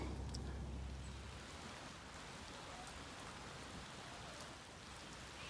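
Steady rain falling on a landscaped yard fitted with catch basins for drainage, a continuous dense hiss of drops at even loudness with no voices.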